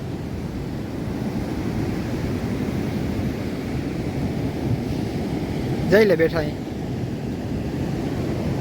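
Sea waves wash against a village shore as a steady, broad rush of surf mixed with wind, close and continuous, with a brief voice cutting in near the end.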